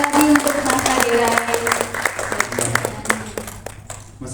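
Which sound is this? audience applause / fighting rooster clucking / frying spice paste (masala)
audience applause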